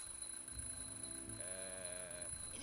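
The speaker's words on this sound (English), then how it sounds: "just testing the smoke detector" A smoke detector alarm in the video game The Journey Down gives a steady electronic tone during a test, faint and continuous over a low background hum.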